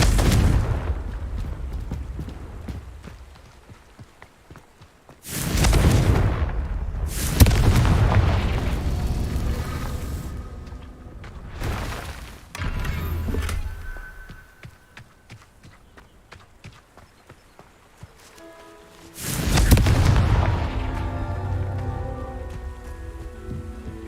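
Confringo fire-spell blasts from Hogwarts Legacy boom near and loud, three or four heavy explosions each trailing off into crackling debris, with no voices.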